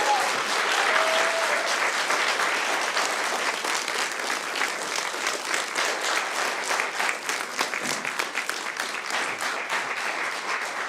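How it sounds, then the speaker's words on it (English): Audience applause after an inaugural professorial lecture on the artist and the city, a sustained, full round of clapping from a large hall crowd that continues steadily for over ten seconds. "Round of applause for Anna."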